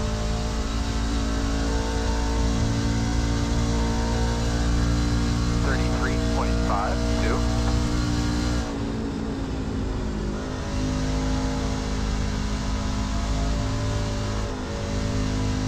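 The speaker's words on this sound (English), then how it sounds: "Roll back onto the throttle." A NASCAR Truck Series race truck in iRacing at Atlanta Motor Speedway drones loudly at high revs as the throttle is reapplied, its engine note holding steady and close. Someone talks over it.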